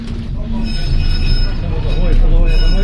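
A heritage MOTAT tram runs at night, making a loud close rumble of wheels on rails with metallic squeals rising toward the end while a person talks over it.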